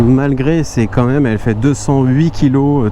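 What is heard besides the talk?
None of the usual background noises is heard.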